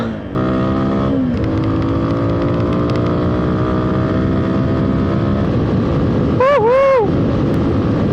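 A powerful new motorcycle engine drones loudly and steadily up close, its pitch climbing slowly, then a quick double rev near the end.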